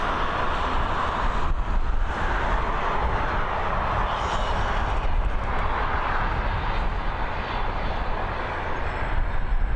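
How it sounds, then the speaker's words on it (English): A Transavia Boeing 737 arriving from Paris at Dublin Airport gives a loud, continuous broadband engine roar that swells and eases slightly over about ten seconds, with no talk over it. "our next arrival, a Boeing 737 coming in from Paris, operated by Transavia"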